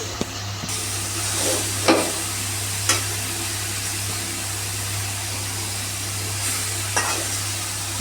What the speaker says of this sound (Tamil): தேங்காய் போட்டு பரட்டணும் ஒரு ரெண்டு நிமிஷம் வச்சுட்டு